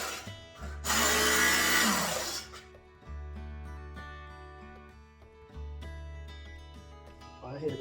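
A Work Sharp electric knife sharpener runs in steady motor hum while a knife is drawn through it, with one loud gritty grinding pass and quieter passes after, and someone speaking in between.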